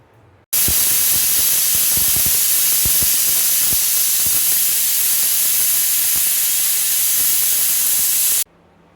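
Loud, steady sizzling hiss of fresh curry leaves frying in hot oil, starting abruptly and running continuously with scattered crackles and pops before cutting off.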